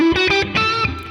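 A short electric guitar rock lick through medium distortion on the neck pickup, a few quick sustained notes ringing loud and close.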